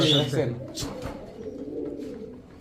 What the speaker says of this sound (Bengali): পাল্লা করা কবুতরটা এই কারণে বেশি উৎপাত করতেছে